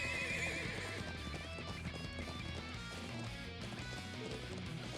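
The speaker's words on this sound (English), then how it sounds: "thoroughbred war horses from the Bardius family's own stables" War horses from a family's thoroughbred stables in the video game Trails of Cold Steel IV neigh and whinny over steady galloping hooves, loud and dense throughout, blended with a full game score.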